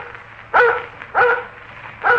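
A dog in a radio drama barks three times in a steady rhythm, each bark loud and close, spaced about half a second apart over a faint background hum.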